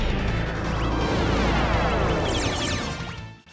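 Gravity magic spell from the Final Fantasy VI Pixel Remaster, a loud, swelling whoosh of layered noise with rising and falling swept tones, bright sparkling accents near the end, then a quick fade.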